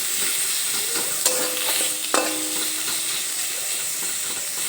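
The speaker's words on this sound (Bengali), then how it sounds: "কড়াইতে সামান্য একটু সর্ষের তেল দিয়েছি এই তেলের মধ্যেই পেঁয়াজটা ভাজার জন্য দিয়ে দিয়েছি" Onions fry in a little mustard oil in a wok, a bright continuous hissing sizzle close up with a couple of brief metallic knocks from stirring.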